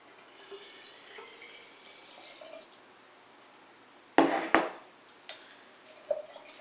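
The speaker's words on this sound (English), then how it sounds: "We're going to pour in our water." Water pours from a container into a bucket of fermented chicken feed in two short, loud splashing bursts, following a quiet stretch with faint trickling and a later small splash.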